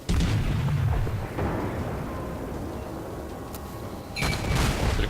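The Japanese tier 6 cruiser Aoba fires its guns in the World of Warships naval game, sending out a rolling salvo of booms with crackling, overlapping reports that fade into a low rumble before a second burst lands near the end.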